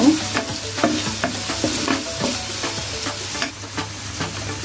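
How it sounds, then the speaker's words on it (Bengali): Ginger and garlic paste frying with onions for a katla fish curry gives a steady close sizzle, with repeated scraping and stirring strokes against the pan throughout. "তো ভাজা হয়ে গেলে আমি আদা বাটা রসুন বাটাটা একসাথে দিয়ে দিব"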